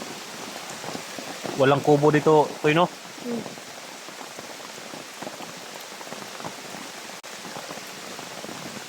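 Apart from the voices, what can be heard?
rain falling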